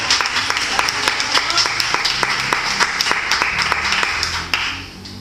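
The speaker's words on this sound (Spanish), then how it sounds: "Denle una ofrenda de aplauso al Señor." Church congregation giving a round of applause during a sermon on prayer, many hands clapping in a steady dense burst that tapers off near the end.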